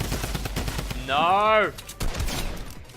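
A drum gun fires in a video game as a run of rapid, repeated shots under the gameplay, with a player shouting loudly partway through.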